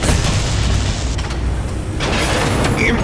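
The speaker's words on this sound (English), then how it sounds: "You destroyed the radome." The radome being destroyed in Metal Gear Solid Integral on PC, a loud heavy boom and rumbling blast that fills the clip, with mechanical rattles and a second surge of debris noise toward the end.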